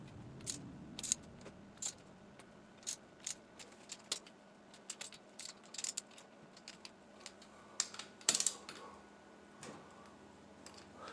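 A ratchet snaps in short, sharp clicking bursts while bolts are tightened into the aluminum casing of a Honda 450 motorcycle engine during a rebuild. The clicks come in an irregular rhythm close to the mic over a quiet background.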